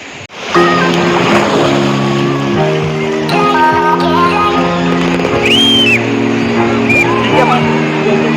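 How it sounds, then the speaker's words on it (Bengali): Loud surf roars continuously at the beach in Digha with strong wind buffeting the microphone, and people's voices are heard over the crashing big waves. "খুব বড় বড় ঢেউ আসছে"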